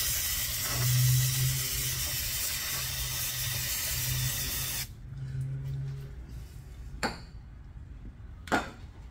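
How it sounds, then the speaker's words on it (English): Brake cleaner sprayed onto a Honda Fit front brake caliper: a broad, steady aerosol hiss for about five seconds, then a quieter spell broken by two short sharp bursts of spray. "try to see if you can clean it from the dust with some brake cleaner, possibly compressed air"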